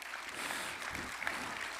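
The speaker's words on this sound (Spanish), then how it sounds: "Dale ese aplauso de gratitud al Señor" A church congregation claps together in a brief, steady burst, close and moderately loud.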